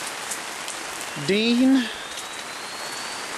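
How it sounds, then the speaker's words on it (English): Steady rain falls on a canopy over a forest camp in a soft, continuous hiss, with a brief voice and a short tonal call in the middle. "the rain has finally come"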